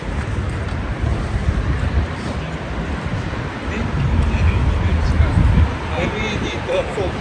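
Wind gusting outdoors on a Tokyo street on a warm, breezy day, a steady rushing roar buffeting the microphone and swelling in the middle, with faint background noise and no talk.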